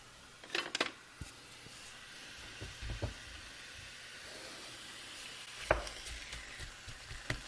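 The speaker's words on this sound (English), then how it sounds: "we're going to put all this sausage in the skillet" Sausage frying in a skillet, a quiet steady sizzle broken by a few sharp clinks and scrapes of utensils against the pan, no speech.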